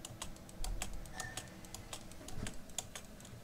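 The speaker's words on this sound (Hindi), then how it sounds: "तो मैं कीबोर्ड की आवाज आ रही होगी" Rapid, irregular clicking of typing on a computer keyboard placed right in front of the microphone, close and steady throughout with no voices.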